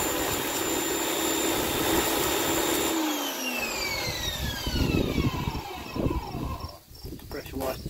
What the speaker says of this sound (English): ready for the pressure washer